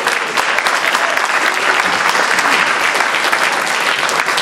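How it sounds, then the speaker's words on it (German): Steady, dense applause from a congress audience in a hall, many hands clapping loudly and evenly throughout with no voices standing out. "dafür auch einen großen Applaus"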